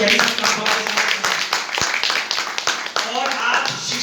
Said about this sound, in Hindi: कृपया ये ताली बजाइए।